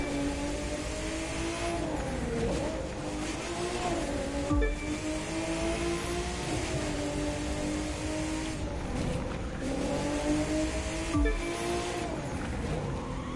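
Race car engine in The Crew 2 video game during a Los Angeles speed race, revving and shifting through gears in repeated rising sweeps, loud and close, with occasional tire and impact noise and no talk.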